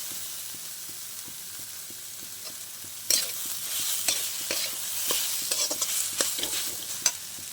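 Ginger paste and green chillies fry in a pan with a steady sizzle, punctuated by rhythmic taps and scrapes of a spatula stirring, growing louder and busier partway through, with no voices.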